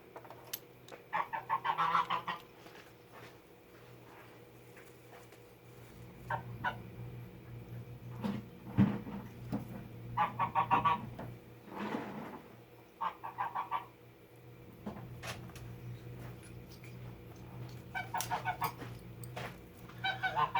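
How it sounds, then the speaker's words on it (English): A goose honks in repeated bursts of nasal, raspy calls, several in a row and then quieter spells, against a low steady background hum. "This poor goose here."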